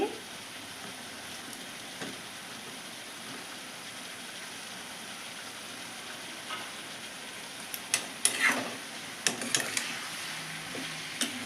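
Onion pieces frying in a pan for a ground amaranth-leaf chutney, a faint steady sizzle with occasional stirring clicks and crackles growing toward the end.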